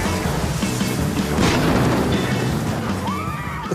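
A loud, dense explosion from a TV drama scene fills the whole stretch with a continuous roaring blast and debris rumble, close and heavy throughout.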